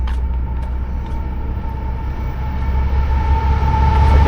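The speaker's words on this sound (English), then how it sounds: "there goes the freight train right there" A freight train rolls along the tracks through a small Texas town, a loud, steady rumble and clatter with a faint whistle-like tone, swelling slightly as it passes close by.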